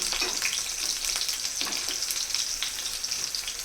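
Garlic and green chillies fry in a pan for a village-style dill (shepu) vegetable dish, giving a steady, close, crackling sizzle with a few louder pops throughout, no voices.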